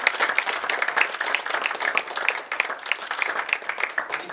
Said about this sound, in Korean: 정면 보고 박수 한번 쳐주세요.